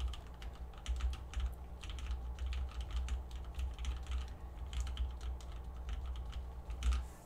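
Typing on a Preonic keyboard fitted with Tealios linear switches, a steady stream of soft, close keystroke clacks over a low constant hum, with a slightly louder burst near the end.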